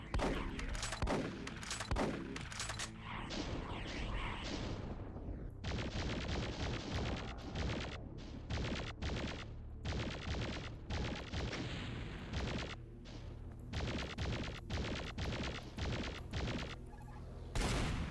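Rapid gunfire in the Doom mod Eraser, with dense bursts of shots and heavy booms filling the whole stretch, loud and close, with brief gaps between volleys.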